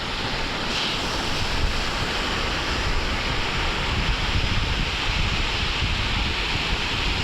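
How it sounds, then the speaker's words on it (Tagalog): Strong sea waves break on a beach where students are playing, making a steady, dense roar with wind blowing across the microphone and no voices. "yun yung mga alon guys"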